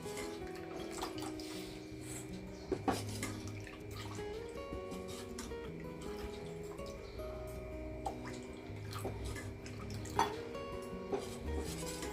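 Water trickles little by little into horse gram flour in a home kitchen, a faint, quiet pouring and dripping with small soft splashes.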